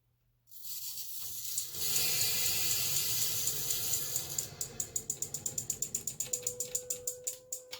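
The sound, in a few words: water filling household pipes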